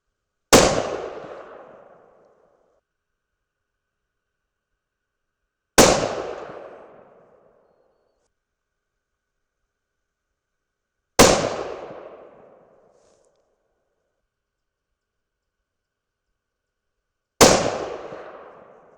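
Thompson Center Compass rifle in 6.5 Creedmoor fires four sharp, loud shots spaced about five to six seconds apart, each a crisp crack followed by a short decaying echo, with silence between and no talk.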